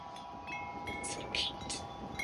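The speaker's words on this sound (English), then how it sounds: "the wind's picking up now" Gusting wind just ahead of a severe thunderstorm with nearby lightning, a steady broadband rush that swells in short surges, fairly close with faint high tones above it and no talk.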